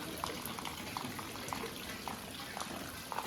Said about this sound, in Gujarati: આવી ગયો વરસાદ